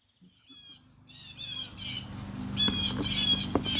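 Crows squawk in a rising series of harsh caws, starting faint and growing louder and denser over a low background rumble, with several birds overlapping.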